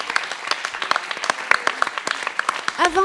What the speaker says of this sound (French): Bravo encore, merci, vous pouvez l'applaudir.